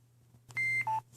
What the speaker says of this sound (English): So that high-pitched beep means the chime's on.